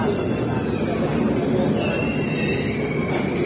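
Bihar Sampark Kranti superfast express pulling out of platform 1 on time, a steady close rumble of rolling wagons with faint wheel squeal throughout.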